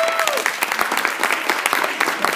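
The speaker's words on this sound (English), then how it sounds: "Let's give them a round of applause" An audience claps for inductees at a high school arts national honors ceremony, a brisk burst of scattered applause close by, with a brief tone at the start.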